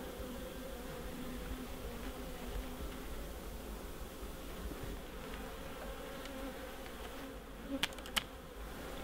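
Honey bees of a Mallee strain hum in a steady, dense drone from an opened bird-box hive, close and continuous, with a couple of sharp clicks near the end.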